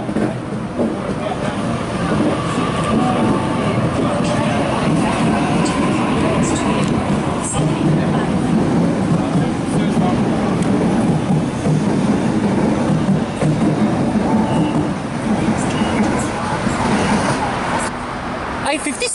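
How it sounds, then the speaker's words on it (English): A Sydney train pulls away from the platform at Milsons Point station. Its rumble is steady, loud and close, with rail and traffic noise mixed in, and people talk over it. "A56 is now departing platform number 2, North Sydney only service."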